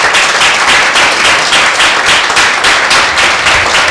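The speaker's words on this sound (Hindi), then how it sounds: "उस परमेश्वर के लिए क्यों एक जोरदार ताली हो जाए" A church congregation at a Sunday meeting breaks into sustained, dense applause that fills the room at steady loudness, with a faintly rhythmic, pulsing texture throughout.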